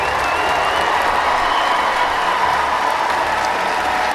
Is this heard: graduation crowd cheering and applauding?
yes